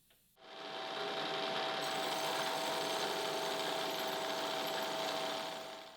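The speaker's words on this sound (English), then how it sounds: "fortunately, that desire of his comes to the rescue with this extra long boring cutter" An extra long boring cutter enlarges spindle holes for a race car part on a machine, starting abruptly and then running as a steady, loud whirring hum with a high tonal whine.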